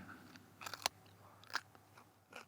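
Crunchy garden-fresh yellow vegetable bitten and chewed close up, with a few sharp, snappy crunches amid quieter chewing, no talking.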